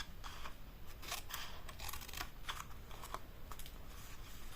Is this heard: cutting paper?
yes